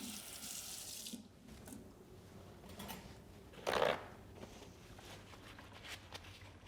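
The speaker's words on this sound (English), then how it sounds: "rinse it off with water" Water runs steadily from a kitchen tap as hands are rinsed, a soft continuous splash with a brief louder gush midway, quiet and close.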